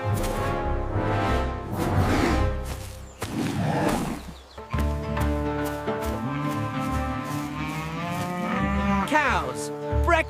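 Cattle on a farm moo loudly and repeatedly at feeding time, long drawn-out lowing calls overlapping one another close by, with no talk.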